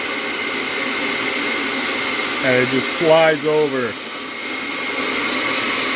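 A vacuum pump runs steadily as suction for a CNC vacuum clamp on a Vevor 3018 Pro mini-CNC, a constant broadband whoosh holding level throughout while a voice speaks briefly over it midway.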